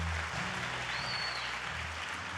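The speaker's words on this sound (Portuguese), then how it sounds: "Aplauda Jesus então" A church congregation applauds at a worship service, a steady broadband wash of clapping from a large crowd, fairly far and even, with music or low hum underneath and no talk.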